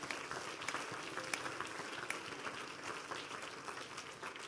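Church congregation clapping hands at a conference service, a fairly faint, continuous patter of many claps with scattered sharper hits throughout.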